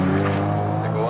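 Ferrari 550 Maranello V12 with manual gearbox holding high revs in second gear near 7500 rpm, a steady loud harmonic engine tone filling the whole brief moment with no break.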